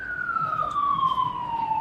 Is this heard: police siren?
yes